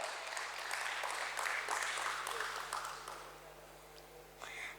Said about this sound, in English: Let's clap, everyone.